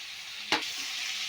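Onion, ginger and green chilli paste sizzles steadily in a pan as masala for a prawn malai curry, with one sharp, louder scrape of stirring midway through the even frying hiss.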